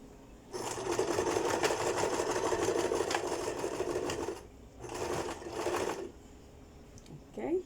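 A sewing machine stitches a trouser pocket in two bursts, a long steady run followed by a shorter one after a brief pause, with fast rhythmic needle clatter close by.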